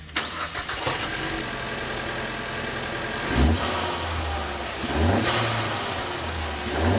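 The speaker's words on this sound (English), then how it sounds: "Now let's fire it up and see how it sounds." A Mustang EcoBoost engine fitted with a COBB cold air intake starts, then revs twice in loud bursts over a steady idle, with a rushing intake sound and a louder blow-off valve hiss as each rev falls.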